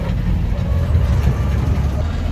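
A Willys Jeep CJ5 fitted with a Chevy 4.3L V6 drives in third gear, its transmission giving a steady, loud low rumble and whine under the running engine, heard up close from inside the vehicle.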